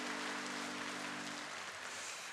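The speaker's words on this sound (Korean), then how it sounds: "하나님께 영광의 박수 올려주시기 바랍니다." A congregation at a Sunday morning church service claps steadily and fairly quietly, the applause mixed with lingering keyboard tones that fade out midway.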